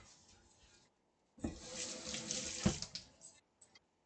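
Tap water runs steadily into a sink for a couple of seconds during washing in a home kitchen, close and fairly quiet, with clinks and splashes before it stops.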